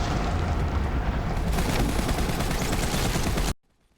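A special gun fires rapidly in Borderlands 3, a dense, loud burst of continuous shots and impacts that cuts off abruptly into silence near the end.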